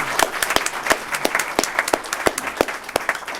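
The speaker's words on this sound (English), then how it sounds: "If they could get a round of applause" A small audience gives a round of applause to Vietnam veterans during a public session. The clapping is sparse and separate, with sharp individual claps standing out over a steady patter, fairly close and alone without talk.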